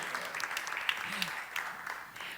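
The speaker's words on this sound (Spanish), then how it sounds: "Les pido un aplauso para ellos." Audience applause at a youth talent forum held by Fundación CajaCanarias, a steady, moderately distant wash of clapping with faint voices mixed in.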